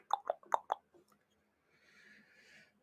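A horse gives a short, sharp series of four whinnying bursts up close, followed by quieter rustling and a faint hiss as it fades out.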